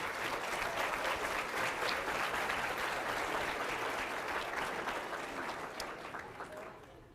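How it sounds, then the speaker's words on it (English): An audience at the 2023 Behavioral Health Professional of the Year awards event gives a round of applause for the nominees, sustained, dense clapping that tapers off toward the end. "That's worth a round of applause"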